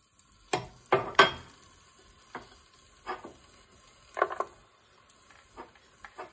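Chopped garlic, asafoetida and cumin seeds hit a spoonful of hot oil, making sparse, close crackles and pops scattered over a quiet background.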